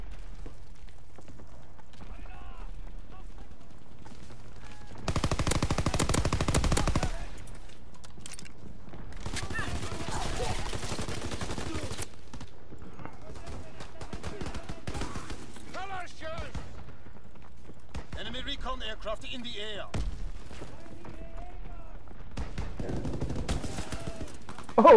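Bursts of gunfire in an online multiplayer shooter match, with loud broadband volleys around several moments among game effects while players talk over voice chat.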